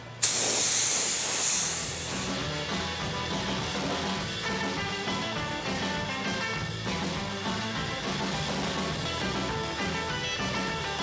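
A spray gun lays black paint onto a 1932 Ford chassis on a rotisserie outdoors, giving a loud, continuous hiss that opens with a sharp burst and then holds steady throughout.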